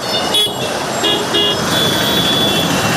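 Short vehicle horn toots, two or three brief blasts, sound over steady roadway traffic noise with cars and buses passing nearby.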